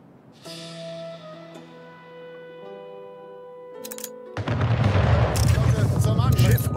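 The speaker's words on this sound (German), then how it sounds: "Schiff unter Beschuss" Ship under cannon fire in Anno 1800: quiet tonal game music gives way to a loud, dense barrage of booming, crackling impacts filling the second half, with scattered sharp bursts just before.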